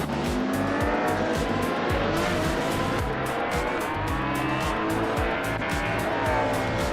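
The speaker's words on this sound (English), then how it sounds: "Excepcion is driving a 1978 Ferrari 512 BBLM, a classic Group 5 beast" A 1978 Ferrari 512 BBLM Group 5 race car in a racing video game, its engine screaming loudly and continuously with rapid rising gear-shift sweeps, tires squealing now and then, close and dominant with no talk.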